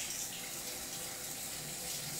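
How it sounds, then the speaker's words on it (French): Tap water runs into a kitchen sink as hands are rinsed during cooking, a steady close splashing hiss with no talking. "je vais me rincer les mains"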